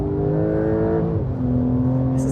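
A Porsche 992 Turbo S drives with a steady engine drone that eases and drops in pitch as the driver lifts off the throttle, heard close and loud without talk.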